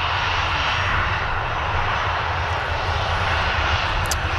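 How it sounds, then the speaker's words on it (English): A four-year-old Ryanair airliner inbound from Gdansk touching down at Manchester Airport, its jet engines a loud, steady roar with a broad hiss that holds without a break. "this Ryanair's inbound from Gdansk, just touchdown"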